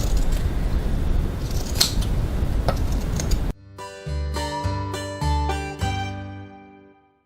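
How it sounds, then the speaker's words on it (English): Pinking shears trimming fabric corners on a piping tutorial project, heard as a few sharp close snips over a quiet background, after which music takes over. "grab your pinking shears. I'm just going to trim a bit more away from these corners."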